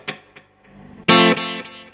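Electric guitar notes through a Line 6 DL4 delay pedal set to tape echo: a couple of plucked hits and faint repeats, then a loud distorted chord that rings and steps down as the echo decays, no talking.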